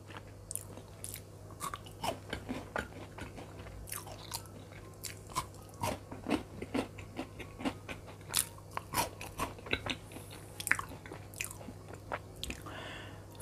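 Close, crisp crunching as a four-finger KitKat chocolate wafer is bitten and chewed, with repeated crackling bites and a steady chewing rhythm in quiet surroundings and no talking.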